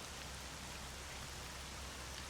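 Steady rain hisses without a break in the video game Stalker, a dense, even downpour with no voices or other sounds over it.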